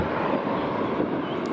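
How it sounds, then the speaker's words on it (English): A British Airways City Flyer Embraer 190 taxis at Edinburgh Airport on a summer evening, its steady broadband engine roar heard from a distance, mixed with wind buffeting the microphone. "we've also got the British Airways City Flyer Embraer 190, which is just taxiing there as well"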